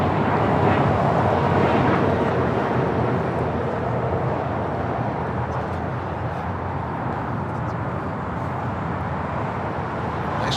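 Condor airliner in Condor Island livery at LAX, a loud steady jet engine roar and broadband rumble that holds near-constant for the whole stretch, slightly easing toward the end.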